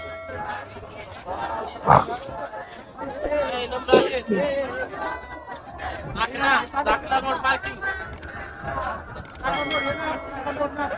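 Crowd of visitors gathered at the Bhima Koregaon Vijay Stambh victory pillar, a steady murmur of many voices with scattered nearby shouts and a couple of sharp clanks, continuous throughout.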